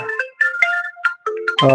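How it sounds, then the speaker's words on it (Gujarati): A phone ringtone sounds for an incoming call, with loud melodic electronic tones in short phrases and brief pauses that swell into a fuller chord at the end. "એક ફ્રેન્ડનો ફોન છે"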